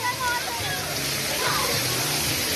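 Cold water pours and splashes steadily at a water play area at Universal Studios Hollywood, a loud continuous rushing wash up close, with faint voices under it.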